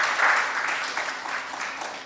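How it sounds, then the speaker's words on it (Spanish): Congregation applauding at a Spanish-language church service, a dense, steady wash of clapping that holds for about two seconds without easing. "Denle un aplauso al Señor."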